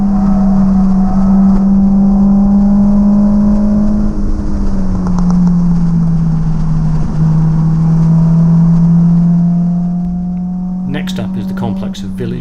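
Car lapping Silverstone circuit on a track day, its engine droning loud and steady near the microphone with pitch rising and dipping through gear changes, then easing near the end as another sharper engine burst intrudes.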